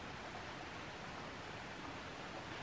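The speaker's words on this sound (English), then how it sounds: "like the sound of the creek in the background," A creek flows steadily near a beehive in a brief, faint stretch of continuous rushing water with no talk over it.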